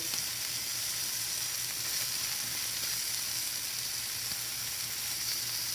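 Scallops searing in hot oil in a pan, a bright, steady sizzle that holds at an even level throughout with no talking.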